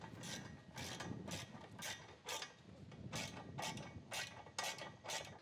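A hand ratchet clicks in repeated bursts while bolts on an aftermarket bumper of a Polaris ATV are snugged down, the quick ratcheting strokes close and fairly loud over a low background rumble, with no talk.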